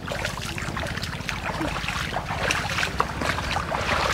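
A rainy-season stream flows steadily over stones, a continuous close rushing and gurgling of water with wind buffeting the microphone.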